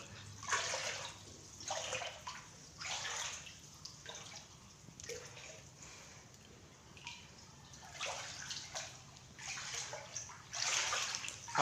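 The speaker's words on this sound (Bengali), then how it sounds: "পুরা ঘরটার মধ্যে শুধু জল আর জল।" Floodwater sloshes and splashes inside a house submerged by the Assam flood, in repeated bursts of several seconds each, moderately close with no talk.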